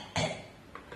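A voice imitating a small, persistent cough: one short throaty burst followed by two fainter, quick after-coughs, close and alone.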